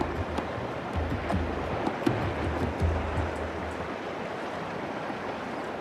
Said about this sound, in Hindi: पानी का करंट बहुत तेज है।